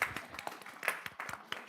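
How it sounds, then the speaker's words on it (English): Scattered, sparse clapping from a small audience at a school board meeting, a handful of separate claps spread out with gaps between them, fairly quiet and distant. "You can clap now"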